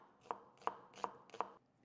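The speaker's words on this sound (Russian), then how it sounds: "Проще нам все на средний кубик нарезать." A knife cuts chicken breast and mushrooms into medium cubes on a board: four crisp, evenly spaced chops, close and fairly quiet, with no talk.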